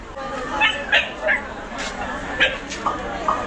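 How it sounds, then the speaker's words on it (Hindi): Tied-up dogs at a market in Dimapur give several short, sharp barks and yips at irregular intervals, heard among nearby people talking. "कुत्ते बांध के रखे हैं"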